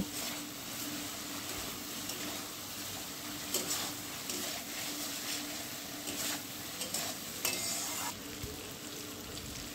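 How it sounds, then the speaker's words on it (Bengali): Fried okra is stirred together with poppy seed paste in a pan for a vegetarian Bengali dheros posto, a continuous soft sizzle under repeated scraping strokes of the spatula, with no voices. "আরও 2 মিনিট আমি পোস্তর সঙ্গে ভালোভাবে ঢ্যাঁড়সটা নাড়িয়ে চাড়িয়ে মিশিয়ে নেব।"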